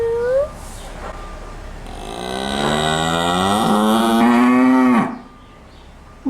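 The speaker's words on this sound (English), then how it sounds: "You want to do a moo? Another moo." A cow on a farm gives one long, loud, drawn-out moo up close, rising and then falling over several seconds, with a faint voice heard briefly before it.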